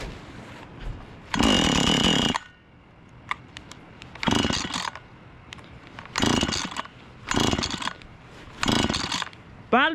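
A small engine, sprayed with WD-40, fires in several separate bursts. A long sputtering run is followed by shorter buzzing ones, each loud and close, with quiet gaps and small clicks between them.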